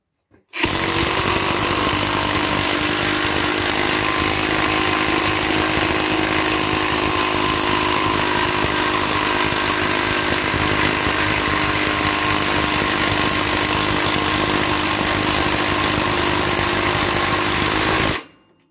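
A Parkside PDSSAP 20 Li A1 cordless impact wrench drives a long screw at high torque, giving one continuous loud, rattling hammering buzz that lasts about seventeen seconds before cutting off, with no voices.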